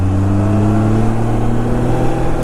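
Kawasaki Concours motorcycle engine running loud and close, a steady low rumbling hum with a slight rise as it pulls away.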